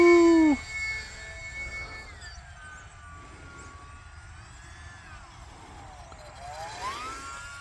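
An E-flite UMX Pitts S-1S, a small electric RC model biplane, flies outdoors. Its thin motor whine rises and falls in pitch as it passes at a distance, with light wind noise underneath.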